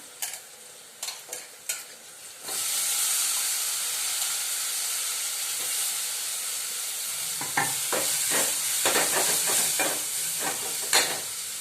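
Brinjal and carrots fry in a hot pan, a loud steady sizzle and hiss after an initial few clinks, with spatula stirring scrapes and taps recurring over the sizzling, no talk.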